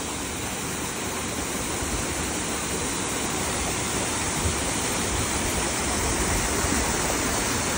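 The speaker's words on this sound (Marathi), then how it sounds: "थोडं पुढे आलं चालत की वॉटरफॉल, एक नंबर वॉटरफॉल आहे बाकी" A waterfall in the Konkan countryside pours with a steady, dense broadband roar that holds unbroken and fairly close throughout, with no voices.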